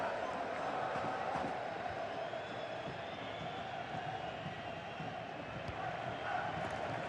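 A stadium crowd in the FC 26 football video game keeps up a continuous, even roar of cheering and chanting late in a match, heard alone with no commentary over it.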